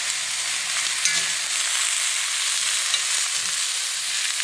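Squash sizzles steadily as it is stirred in a frying pan, a continuous bright hiss with a few soft scrapes and clicks from the spoon, close and fairly loud, no talking.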